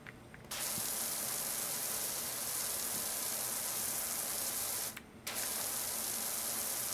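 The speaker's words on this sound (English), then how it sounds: "It sounds nice when you spray the grass." A pressure washer in the PowerWash Simulator game sprays grass with a steady, hissing spray that runs almost nonstop, cut by two brief pauses near the start and later on, with no voices.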